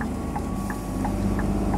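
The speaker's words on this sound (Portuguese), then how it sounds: "Só no freio a motor" A car engine-braking down the Serra de Joinville mountain road in Santa Catarina, at around 2000 rpm, gives a steady low drone with faint periodic ticks and no talk.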